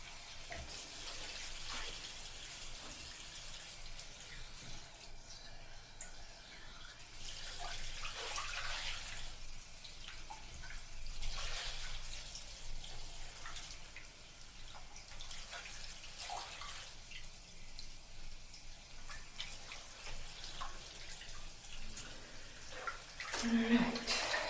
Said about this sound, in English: usually the shorts and the jersey, I want to swish them around in some clean water